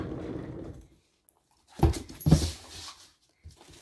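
A dog gives a few short whimpering yips after some faint rustling, with quiet gaps between the sounds.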